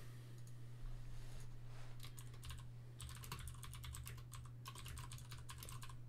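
Computer keyboard typing during a Vintage Cube draft, steady close clicking in bursts over a constant low electrical hum, with no speech.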